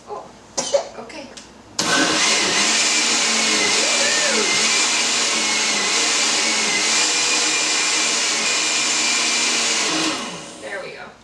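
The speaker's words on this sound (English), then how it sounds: "So when you're blending a hot liquid, you want to take the cap off of your blender and cover it with a folded towel" A blender purees hot butternut squash soup under a towel-covered lid, a loud steady whir holding for about eight seconds before winding down, with a few brief voices and clatter just before it starts.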